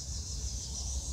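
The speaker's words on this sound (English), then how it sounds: "Shut up, cicada, will you?" A cicada buzzes steadily in grass, a continuous high insect drone holding at an even level for the whole short stretch, with no voices.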